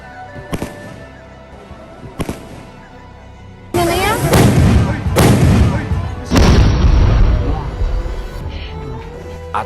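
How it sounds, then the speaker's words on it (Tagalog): Several deep booming cannon blasts ring out, two sharp ones followed by bigger rolling explosions, with crowd voices and reactions heard underneath. "Makalilingaw ang reaksyon sa mga tumalanaw sa kada pagsigabong sa kanyon."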